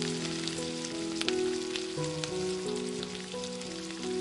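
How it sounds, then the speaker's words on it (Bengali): Chicken pieces sizzle and crackle as they deep fry in hot oil for a gondhoraj chicken fry, a steady close hiss with scattered pops and faint tonal hum in the background. "ওই একই তেলে বাকি চিকেনের টুকরোগুলোকে ওই একইভাবে কিন্তু লাল করে ভেজে নেব"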